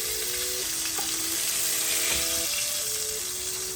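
Fish pieces fry lightly in oil in a pan for a fish masala, giving a steady, close crackling sizzle throughout, with faint tonal hums in the background.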